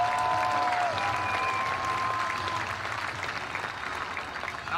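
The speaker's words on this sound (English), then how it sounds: "Give them a round of applause." A graduating class at a 2020 West Plains High School ceremony receives a dense round of crowd applause, steady and fairly loud, tapering slightly toward the end, with faint voices underneath.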